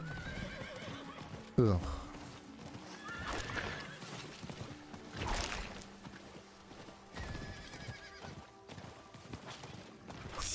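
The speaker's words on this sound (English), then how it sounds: "Now everybody has horses." In Diablo 4, a horse gives one loud whinny while hooves clip-clop at a walking pace, among game ambience and a brief voice grunt.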